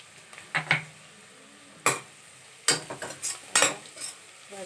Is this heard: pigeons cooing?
no